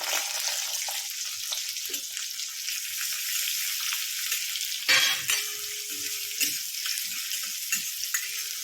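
Onion and ginger-garlic paste fry in hot oil in a pan. A loud, steady sizzle with crackling holds throughout, broken by a few clatters of stirring.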